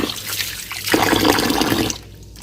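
Rice is swished and rinsed in water in a pot, with a loud sloshing surge and splashing, then the water quiets to a trickle; no talking.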